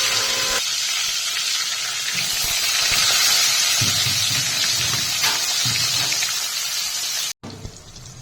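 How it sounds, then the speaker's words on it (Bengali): Eggplant slices frying in oil in a pan for begun bhapa, a steady broadband sizzle and hiss that holds nearly throughout before cutting off abruptly near the end, with a brief quieter tail. "একইভাবে বাকি বেগুন ভেজে নেব।"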